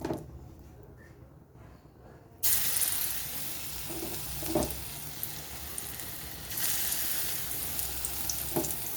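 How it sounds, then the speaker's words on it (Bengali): Prawn-head fritters fry in hot oil in a wok, a steady crackling sizzle that surges louder as more batter drops in, with a few faint clinks and scrapes. "কড়াইয়ের তেলটা গরম হয়ে গেছে খুব ভালো মতন। এবারে আমি একে একে বড়াগুলো ছেড়ে দেব।"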